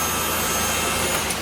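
A Nissan R33 Skyline GTS4 fitted with a manual swap runs in the garage just after firing up, a steady broad engine roar filling the brief moment.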